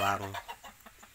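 A red junglefowl cross chicken clucks loudly at first, followed by a few softer, quick clucks spaced out over about a second.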